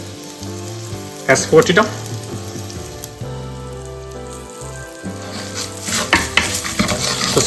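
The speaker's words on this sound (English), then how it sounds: "add ginger, add curry leaves, and mix well" Ginger and curry leaves with green chilies are stirred and fried in a pan, giving a steady close sizzle with bursts of scraping and clattering from the stirring, plus a brief spoken phrase.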